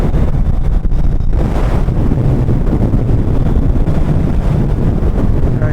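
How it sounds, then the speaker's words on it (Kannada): Strong, steady wind roars and buffets against the microphone throughout a Hayabusa motorcycle ride, with a low rumbling drone underneath and no voices. "ವಿಂಡ್ ಅಂತೂ ಹೆವಿ ಆ ಕಡೆ ಈ ಕಡೆ ನೂಗ್ತಾ ಇದೆ"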